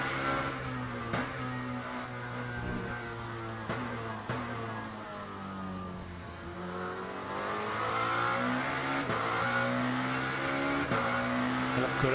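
A Lamborghini V8 race car in Le Mans Ultimate laps Circuit Imola, its engine droning and revving steadily with sharp gearshift breaks and slight pitch rises and dips, loud and continuous with no talk.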